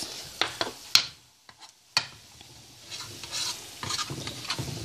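Scrambled eggs with avocado being stirred in a pan, with sharp spatula scrapes and clicks over a soft, intermittent sizzle that builds to a steadier crackle toward the end.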